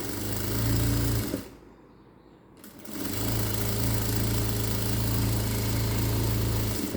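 A sewing machine runs loud and close, stitching a blouse sleeve onto its lining in a steady whir, stops briefly for about a second, then starts again and runs on steadily.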